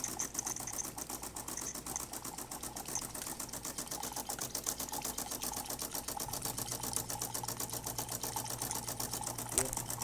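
A DeLonghi Magnifica espresso machine pump drones with a rapid, steady buzzing rattle while dispensing hot water, close up, and a low hum joins partway through.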